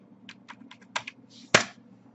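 A name is typed on a computer keyboard in a short run of crisp, distinct keystrokes, ending with one louder key press.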